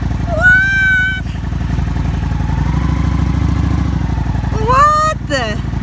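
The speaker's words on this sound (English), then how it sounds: "We gotta warm up this motorcycle." A motorcycle engine idles while warming up on a cold day, a steady close mechanical putter running the whole time. An adult and a baby make voices over it.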